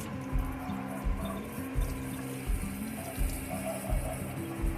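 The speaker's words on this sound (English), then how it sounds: "Time to lightly rinse our harvest." Freshly harvested wild yellow wood sorrel gets a light rinse in water, with a soft, steady splashing and sloshing close by and a gentle repeating rhythm, no voices.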